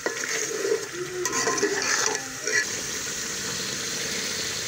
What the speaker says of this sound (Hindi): अब इसमें डाल देंगे दही, आधा कप दही चाहिए। 2 मिनट इसकी और भुनाई कर लेते हैं।